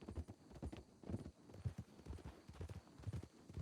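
Horse hooves clip-clop steadily in Red Dead Redemption 2, a run of evenly paced footfalls close by and fairly quiet, with no talk over them.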